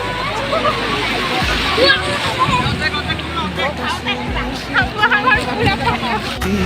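Sea waves wash onto the beach at Cox's Bazar, a steady broadband surf and sloshing water under a lively holiday crowd, with people chatting and calling nearby throughout.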